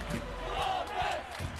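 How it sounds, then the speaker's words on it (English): Brief burst of a stadium crowd roaring and chanting at a Columbus Crew soccer match, a dense wash of many voices swelling in short waves. "Rally, chant, and cheer the black and gold on to victory"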